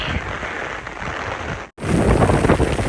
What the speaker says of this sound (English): It couldn't be raining any harder.